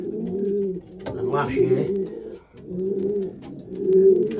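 Racing pigeon cocks in a loft coo in deep, rolling, repeated calls close by, overlapping with someone talking throughout.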